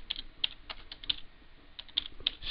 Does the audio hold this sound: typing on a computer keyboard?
yes